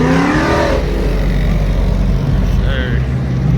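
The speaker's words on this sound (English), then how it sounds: "this Mustang sound crazy. Thing sound crazy. He ain't even got no mufflers on there" A Mustang with no mufflers revving at a busy car meet, a loud, close, raw engine roar dominating throughout while people talk over it.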